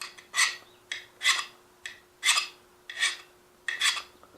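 A hand file bites into the unhardened steel tang of a freshly forged knife in six evenly spaced rasping strokes, close up and clear, with no talking.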